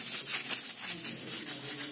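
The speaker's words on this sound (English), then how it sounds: "whatever the dust grease you have on the switchboards, fingerprints, that you can rub easily" A Scotch-Brite pad scrubbing a switchboard, heard close up as steady back-and-forth rubbing strokes in an even rhythm, with no talk.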